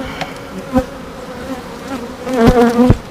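Honeybees hum steadily at an open beehive during an inspection, with several individual bees buzzing louder as they fly close past, and no one talking.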